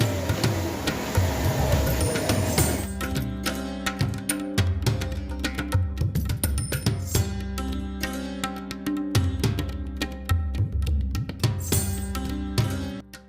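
A household sewing machine stitches a blouse in a steady, rapid mechanical rhythm after a brief start, running close and loud almost without pause.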